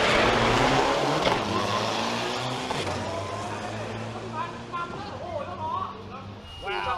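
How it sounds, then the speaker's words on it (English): Roaring Isuzu turbo diesel drag racing trucks rev hard and race past, loud and close, with people talking and shouting over the noise, at a race in Thailand. "these trucks are so fast"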